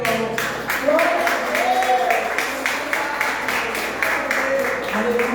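A church congregation claps in steady rhythm during worship, loud, even beats continuing throughout, with singing voices carrying over the clapping.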